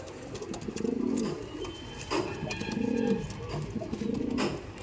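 Soft, repeated cooing of Andhra Madrasi pigeons in a steady rolling rhythm, several calls overlapping at close range in a loft against a faint background hiss.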